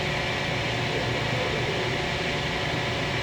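A Clausing-Colchester 21 x 120 inch CNC/manual gap bed lathe's spindle runs at 750 RPM, producing a steady, even mechanical whirr and hiss with no change over time.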